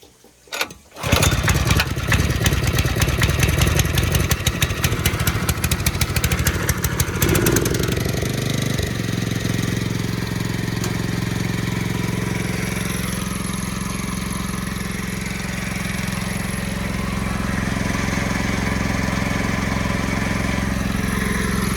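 Irrigation pump engine running slowly, a loud continuous mechanical drone that settles into a steady low hum after a rough start.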